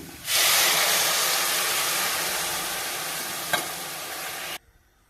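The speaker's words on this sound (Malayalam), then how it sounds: "നമുക്കിതിലേക്ക് ആവശ്യത്തിന് വെള്ളം ഒഴിച്ചു കൊടുക്കാം" Water poured into a hot pan of sautéed vegetables for upma bursts into a loud, sustained hiss and sizzle that slowly fades for several seconds, with one brief clink before it cuts off abruptly.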